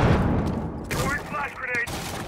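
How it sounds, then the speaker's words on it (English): A flashbang grenade goes off in the video game Rainbow Six Siege, a sharp burst followed by a bright ringing whine, heard over background game noise and brief voice chatter. "Flashbang out."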